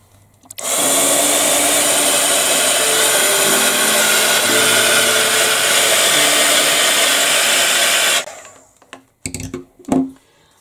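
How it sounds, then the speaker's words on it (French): A hair dryer blows on an art journal page in a steady, loud, continuous whoosh for about eight seconds, then cuts off, followed by a few brief clattering handling noises. "Et maintenant je suis occupée à sécher."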